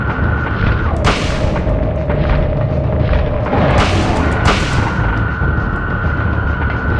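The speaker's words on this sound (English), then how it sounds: "His weak point is in his belly. I'm gonna get 2 shotgun bullets in." Shotgun blasts fired at a monster in the video game Silent Hill, two loud booming shots a few seconds apart, each ringing out over a constant droning game soundtrack.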